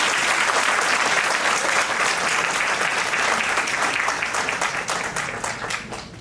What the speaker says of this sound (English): request the crowd for a big round of applause